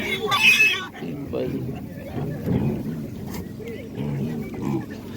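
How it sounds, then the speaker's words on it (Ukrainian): Piglets grunt and squeal in a busy pen at an animal market, with people talking nearby amid a low rumble of background noise. "поросятка."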